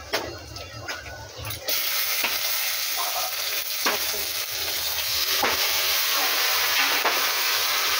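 Meat sizzles and hisses steadily in a hot pan with a loud, constant frying roar and a few scraping stirs. Kitchen handling noise comes first, and there is no talk.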